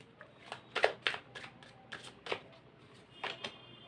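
Tarot cards shuffled in hand at close range, a quick series of soft riffling flicks and slaps with brief pauses between bursts, fairly quiet and alone without talk.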